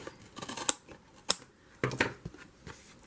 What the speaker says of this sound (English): So I am cutting off this bendy section